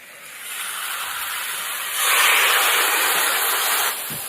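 Rinse water poured into a hot pan of amudi fish curry with eggs and spring onion stalks sets off a steady hiss that swells louder midway, then cuts off abruptly.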